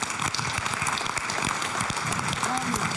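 An audience at a horse racing forum conference in Madrid applauds, a dense patter of claps close by, while a voice speaks over it.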